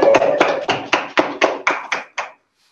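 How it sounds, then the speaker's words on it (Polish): At an award ceremony for a Polish community contest, roughly nine or ten distinct, evenly spaced claps ring out in a short, close burst that ends abruptly. "Wielkie brawa."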